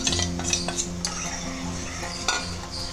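Cooked toor dal goes into a pot and is stirred, with a spoon scraping and clacking against the metal in irregular close strokes, no talking.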